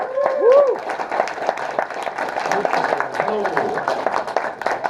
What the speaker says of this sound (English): let's have a round of applause for Ari.